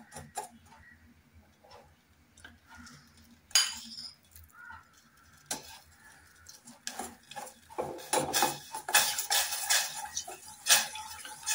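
A spoon stirs cow's milk with powdered jaggery in a pan, scraping and clinking against the metal. It starts with sparse taps and grows into quicker, louder rhythmic strokes.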